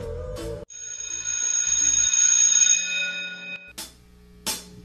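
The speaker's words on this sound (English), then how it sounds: "please hit that notification bell so that you may be notified every time when I upload a video" A notification bell sound effect rings out as a bright, sustained chime with a long ringing decay, framed by short bursts of electronic noise before and after, with no talking.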